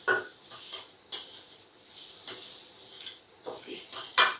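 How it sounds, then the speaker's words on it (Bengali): Fried kulekhara greens are mixed with salt, turmeric and cumin in a pan, giving a soft sizzle punctuated by several sharp clinks and scrapes of a metal spoon at uneven intervals, close and with no speech. "এবার এটাকেও ভালো করে মিশিয়ে নেব"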